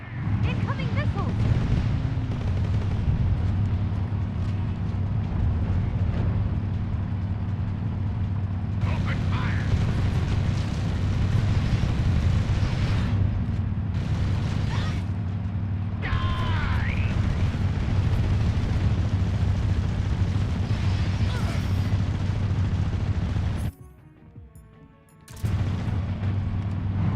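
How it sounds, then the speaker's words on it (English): Missile explosions in a video game, booming impacts and a low rumble running steadily under near-constant talk, with a brief near-silent drop toward the end. "Incoming missiles!"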